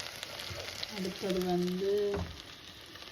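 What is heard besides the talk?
onion, green chili and garlic frying in a pan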